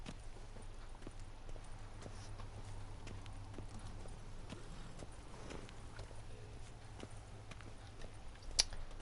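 Roach the horse from The Witcher 3 trotting, a steady run of soft hoof clip-clops under quiet ambient game sound, ending on a sharper sound near the end.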